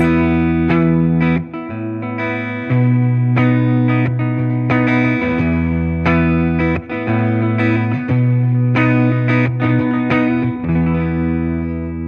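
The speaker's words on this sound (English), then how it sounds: "So a chord progression could sound like this." An electric guitar strums a chord progression with effects, ringing chords changing every couple of seconds, loud and close.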